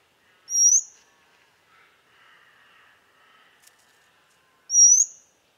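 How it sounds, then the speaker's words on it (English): Oriental magpie robin sings two short, clear rising whistled notes, spaced about four seconds apart, loud and close, with faint soft chatter between them. "Rising notes, for example, this is a magpie robin"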